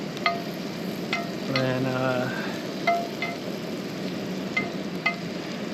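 Black morel mushrooms frying in a pan outdoors, a steady close crackle and sizzle with a few sharp pops and stirring clinks throughout, and a brief word spoken early on.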